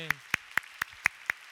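At a church youth service, a congregation claps in praise in an even, steady rhythm of six distinct claps, clear and fairly close, with a brief low murmur at the very start.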